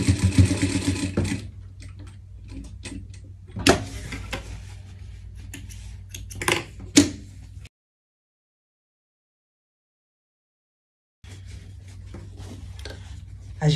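A sewing machine runs steady stitches along a gathering seam in fabric, its motor whirring continuously, broken by louder clunks and then a few seconds of silence before the stitching starts again.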